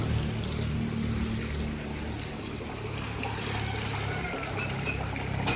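Stream water runs steadily into a resort pool on Isla San Andres, a continuous broadband rush with no breaks, moderately loud and close throughout.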